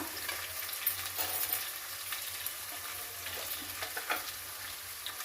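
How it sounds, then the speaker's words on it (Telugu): Green chillies fry in a hot pan with other ingredients, giving a soft, steady sizzle with occasional stirring scrapes and pops, quiet and close. "పచ్చిమిరకాయలు వేస్తున్నాను"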